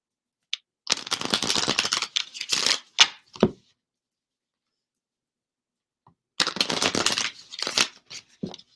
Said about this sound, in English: Let me shuffle this up.